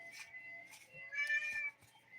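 A pet cat meows close by in a quiet indoor room, a few drawn-out calls with one longer, louder cry in the middle.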